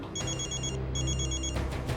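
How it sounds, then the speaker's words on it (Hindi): A mobile phone rings indoors in a repeating electronic ring pattern: two clear bursts of bright ringing separated by a short gap, fairly loud over a low background hum, with no talking. "आज तो आपका फ़ोन बहुत बज रहा है"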